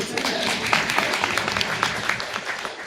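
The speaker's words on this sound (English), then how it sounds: "You can clap" Audience applause at a training session on ADA updates, steady dense clapping that fills the room throughout, with some voices mixed in.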